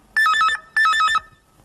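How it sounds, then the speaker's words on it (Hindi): Two loud, warbling telephone rings sound in a Hindi radio play, each a short trilling burst with a brief pause between, alone and up close before fading to quiet. "लो, फिर से फोन की घंटी बजी।"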